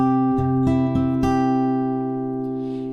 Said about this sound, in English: We're plucking the bass note, 3rd string, 4th string, and 2nd string